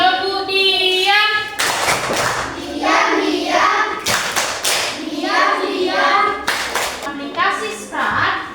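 A class of children performs the tepuk diam clapping chant, with voices chanting together between three sharp bursts of loud group clapping.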